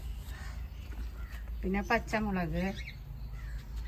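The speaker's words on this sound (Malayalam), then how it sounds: "കാക്ക ഉണ്ടോ?" A crow caws a few times at a home garden where seedlings are being planted, harsh calls mixed in with a woman's nearby speech over steady background noise.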